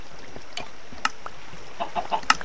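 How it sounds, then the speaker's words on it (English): A Minecraft chicken clucks in short, soft, scattered calls over a steady low background hum, growing a little louder toward the end. "This chicken's very annoying."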